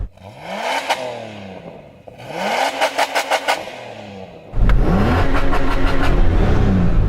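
A Ferrari SF90 engine revs up sharply several times, bouncing off the rev limiter with stuttering bursts, then settles into a loud, steady roar close by.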